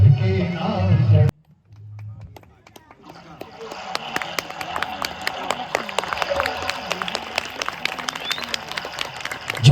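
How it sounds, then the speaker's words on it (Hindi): At a Ramlila performance, a loud voice at the very start cuts out, then a crowd's clapping builds into a dense patter of many hands that grows louder and keeps going. "जोरदार तालियां, बहुत अच्छे, जोरदार तालियां, जोरदार तालियां।"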